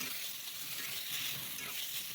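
Spice paste fries over sliced tomato in oil for a Bengali rohu fish curry, giving a soft, even hiss that holds steady and fairly quiet for a couple of seconds.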